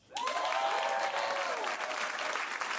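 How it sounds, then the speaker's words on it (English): A live audience claps and cheers loudly after being asked to clap, with dense continuous clapping and crowd noise that starts abruptly and holds steady. "Clap your hands if you like the Bad Friends."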